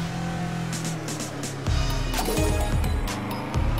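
Race car engine revving hard in the PS4 game Table Top Racing: World Tour, a steady loud drone that surges with punchy bursts in the second half, layered with game sound effects.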